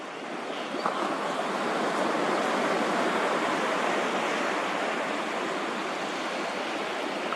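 Ocean surf rolls in a steady, full roar, an even, continuous wash of breaking water with no voices over it.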